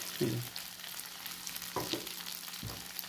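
Sabudana stirred and fried in a pan for sabudana khichdi, with a steady soft sizzle and a few brief spoon scrapes, quiet and close, without talking.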